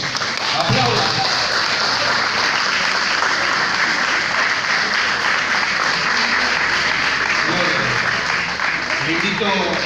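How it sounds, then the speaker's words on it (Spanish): Steady applause from a church congregation fills the space throughout, dense and sustained, with a few voices and cheers rising briefly beneath the clapping. "Ven, aplauda, aplauda a Jesús. Aplauda."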